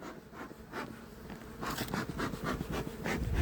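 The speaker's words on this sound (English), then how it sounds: "Here comes the bees." Honey bees pour out of a homestead hive with a dense, close buzzing drone that swells and grows louder partway through, with no voices.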